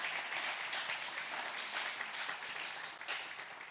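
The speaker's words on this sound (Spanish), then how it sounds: "Dele una ofrenda de palmas al Señor." A church congregation applauding together, a dense, sustained round of clapping filling the room for several seconds before tapering slightly at the end.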